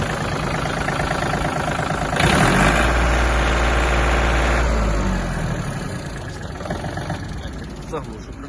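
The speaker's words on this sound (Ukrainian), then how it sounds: "і дам трохи газу." A Yanmar AF-226 Japanese mini tractor's small 26-horsepower diesel engine revs up, its low throbbing rising in pitch and loudness for a few seconds, then settling back to a steady idle nearby.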